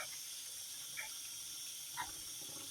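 Cold tap water streams steadily over catfish in a strainer, a continuous hissing rush with two soft splashes or knocks about a second apart, close and with no talking.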